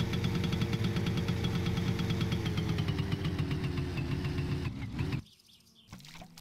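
Motorcycle engine in the driving game My Summer Car, a steady mid-pitched idling rumble that drops out suddenly near the end, leaving near silence before a faint sound returns.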